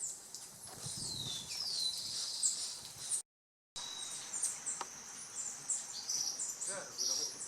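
Exotic birds call and sing in a bird reserve, a dense layer of high chirps and whistles running continuously over quiet background noise, with a brief gap in the middle.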